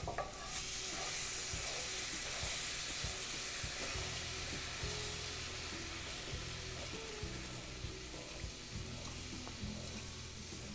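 Mushrooms simmer in wine and stock in a pan for a vegetarian stroganoff, stirred with a steady scraping rhythm over a continuous close sizzle and bubbling hiss, with no voices.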